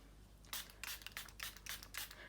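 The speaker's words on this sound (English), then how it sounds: "and spray it with some water." Quick spritzes of water from a spray bottle onto Glacier ink smushed on an all-purpose craft mat: five short, close hissing bursts spaced roughly a third of a second apart, with no talking.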